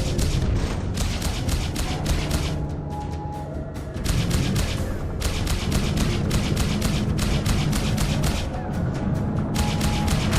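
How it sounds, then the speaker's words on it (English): Enemy spacecraft weapons in the space combat game Freelancer: dense, continuous rapid pulsing fire over a loud droning rumble, with repeated volleys packed tightly throughout. "Bogey's firing."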